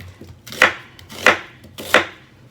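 A knife chops vegetables into big chunks on a cutting board while pork shoulder is being prepared, giving three sharp, evenly spaced, loud chops close by with quiet pauses between.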